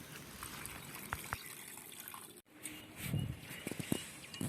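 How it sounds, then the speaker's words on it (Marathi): Water is poured from a small vessel into a pot of pumpkin set to cook, a brief close splash and gush after a short gap, with some clattering in between. "शिजण्यासाठी थोडं पाणी टाकू"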